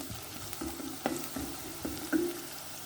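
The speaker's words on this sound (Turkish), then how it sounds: "Şimdi evet soğanlarımız gördüğünüz gibi kavruluyor" Onions sizzling and frying in a pan, with a few sharp clacks and scrapes of a utensil stirring at irregular moments. No voices.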